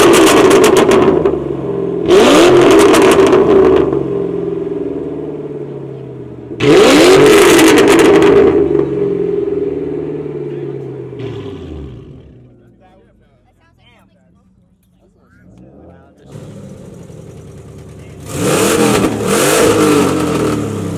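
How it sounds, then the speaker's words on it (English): A loud car engine revs hard in repeated bursts, roaring up and falling back to idle between blips, with a quieter lull before a final burst; people talk over it. "are you going to rev it?"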